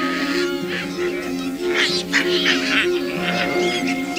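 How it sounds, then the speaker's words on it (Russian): Gelada baboons chatter continuously while grooming, a dense stream of high, warbling, bird-like twitters and calls from several animals close by, layered with a lower steady murmur. "гелады сопровождают этот ритуал непрерывным щебетанием"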